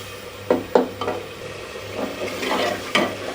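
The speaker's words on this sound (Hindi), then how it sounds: "फिर मसाला हमारा भुन रहा है।" Tomato masala frying in a pan for rajma curry, a steady low sizzle broken by several sharp scraping stirs of a spoon against the pan, close and clear with no talking.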